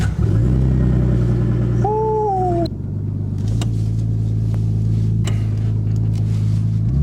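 A right-hand-drive Nissan R34 Skyline idles and creeps forward a few feet, its engine a loud, close, steady rumble with a brief whining tone partway through and a slight dip before the hum resumes.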